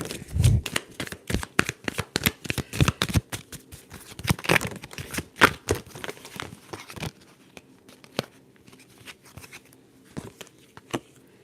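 Tarot cards shuffled and drawn by hand in a close, quiet setting, with a rapid run of crisp riffling flicks that slows into sparse single card snaps and soft slides.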